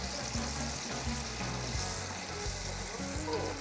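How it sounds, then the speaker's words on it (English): Steady, crackling sizzle of pork ribs frying in hot oil, close and continuous, with faint clinks in the background. "you just push it in and see that sizzling there?"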